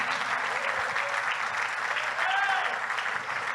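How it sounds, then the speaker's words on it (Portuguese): A church congregation claps for Jesus during a service, a steady wash of applause throughout with a faint voice and a brief sung or called tone rising over it midway. "Dá uma linda salva de palmas a Jesus"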